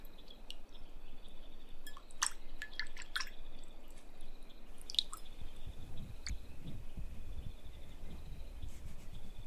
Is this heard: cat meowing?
no